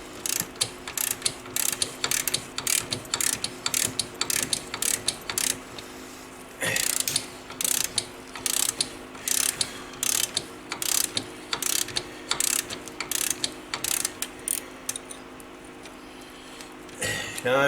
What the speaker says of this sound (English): You want to have yourself a long ratchet or a pipe or something.